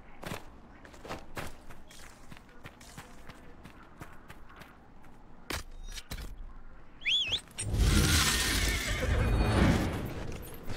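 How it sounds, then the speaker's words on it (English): In the video game Dragon Age Inquisition, a summoned horse comes back: scattered hoof thuds lead into a sharp whinny, followed by loud, dense galloping and rustling that fill the last few seconds. "Right at this point, it lets you call your horse back out, so go ahead and do that."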